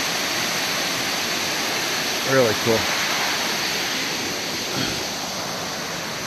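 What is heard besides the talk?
river water flowing at a trail crossing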